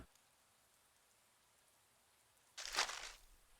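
Soft, faint rain hiss in the Chaos;Head video game, low and steady, then a sudden louder burst of noise near the end that fades after about half a second.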